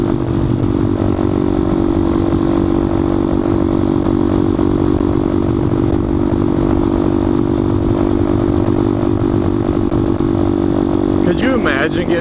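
A roughly 50-year-old mini bike's small engine drones steadily and loudly at a constant pace while riding on a street, with a slight rise near the end and some voices mixed in.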